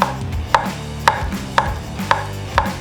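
A knife cuts through a large peeled avocado on a board in thin slices, five crisp, evenly spaced knocks about half a second apart, close and clear with no talking.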